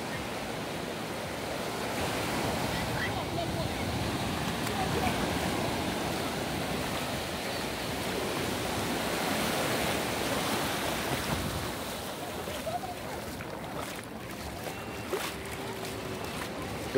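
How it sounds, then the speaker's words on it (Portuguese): Steady ocean surf washes onto Praia das Astúrias beach in Guarujá, Brazil, a broad rushing roar with gentle swells and some wind noise, heard from nearby. "E aqui o som do mar."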